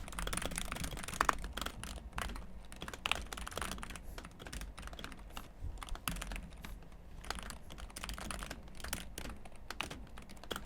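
Rapid, steady keystrokes on a computer keyboard while Python code for a Wi-Fi dictionary attack script is typed, with clicks in irregular bursts and short pauses, close and clear over a faint room hum.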